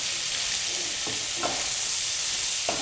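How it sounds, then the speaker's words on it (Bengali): Shrimp frying in a pan, a steady broad sizzle with a few soft stirring scrapes, close and fairly loud, with no talking. "আপনারা যদিও যে যার যার মুখের স্বাদ অনুযায়ী সেখানে মাছটাকে ফ্রাই করতে পারেন"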